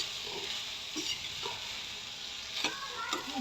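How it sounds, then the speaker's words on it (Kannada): Sprouted green gram being stirred into masala in a pan, a quiet steady sizzle with a few soft scraping stirs spread across the moment, no voices. "ಹಾಕ್ಬಿಟ್ಟು ಇದನ್ನೆಲ್ಲನೂ ಚೆನ್ನಾಗಿ ಮಿಕ್ಸ್ ಮಾಡ್ಕೊಳ್ಳಿ"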